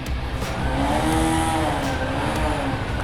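A Bajaj Pulsar RS200 motorcycle engine, after an ECU update, revs loudly, its pitch climbing and dipping in a sustained whine with no one speaking.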